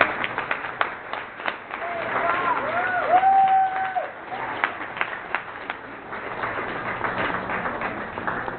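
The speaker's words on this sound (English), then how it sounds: "a nice round of applause for Brock McIntosh" A memorial gathering at Scarpino's in Fayetteville, Arkansas breaks into scattered applause. The claps are light and uneven with some crowd murmur, and a whistle-like tone rises in the middle.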